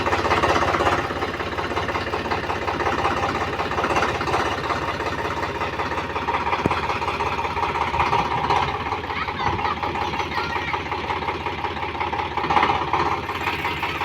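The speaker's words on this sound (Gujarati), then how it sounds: "અહીંયા પપ્પા બહાર કે ટ્રેક્ટર કાઢશે અહીંયા ટ્રેક્ટર આપણો નીકળે છે" A farm tractor engine runs steadily as the tractor is driven out, a continuous loud mechanical drone with a knocking, idling character throughout, fairly close.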